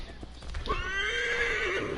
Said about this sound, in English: And there's my horse